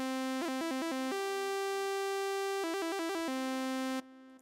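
A UAD PolyMax software synth in mono mode plays a single-note line, clear sustained tones with quick repeated notes at the start and again near the end, loud and alone before an abrupt cutoff.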